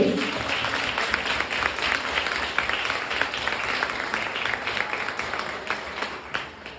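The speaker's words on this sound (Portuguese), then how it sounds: "Vamos dar uma salva de palmas ao Senhor Jesus." Applause from a church congregation at a women's gathering rolls on as a steady wash of many hands clapping, fairly loud and even, fading slightly toward the end with faint voices beneath.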